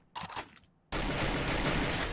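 Gunfire in the Free Fire video game: a short burst of rapid shots, a brief pause, then a loud sustained volley that keeps going to the end.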